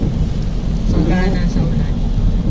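Heavy rain drums steadily around a car driving through Doha, Qatar, with a dense continuous wash of noise and a low rumble that could be distant thunder.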